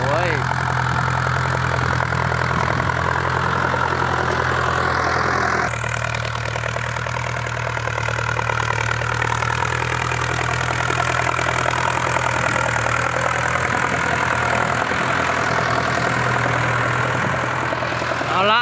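Ford New Holland 6610 tractor engine levelling land, converting an orchard plot into rice paddy, a steady loud drone with a strong low hum throughout and a brief shift in tone partway, with someone talking over it.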